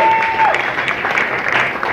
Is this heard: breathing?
no